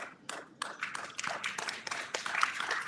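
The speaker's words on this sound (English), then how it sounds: "A bigger round of applause, please." Scattered hand claps build into modest applause from a seminar audience on climate change and coastal areas, starting as a few distinct claps and thickening into a steady, fairly quiet patter.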